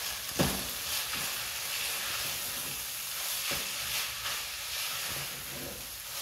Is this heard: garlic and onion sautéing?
yes